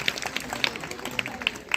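An audience at a gurukul bhajan gathering claps for a donor, a soft, fairly distant patter of hands with a few sharper claps standing out, muffled under hall ambience.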